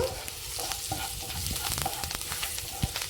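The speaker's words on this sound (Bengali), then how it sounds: "ধনিয়ার গুঁড়ো দিয়ে দিলাম আর আমি এখানে দিয়ে দেব কাঁচা লঙ্কা কুচনো এবার আমি মশলাটাকে একটু হালকা করে ভেজে নেব" Spice paste with coriander powder and chopped green chilli frying in a pan for lau chingri, a close, constant sizzle with scraping stirs and a few sharp spatula knocks.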